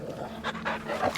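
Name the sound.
dog panting in video game Final Fantasy XVI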